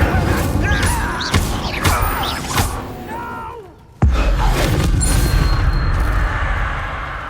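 Incendio fire spell cast in the Hogwarts Legacy video game, heard as loud booming blasts and crackling bursts amid combat effects, with a sharp explosive hit about midway followed by sustained roaring noise.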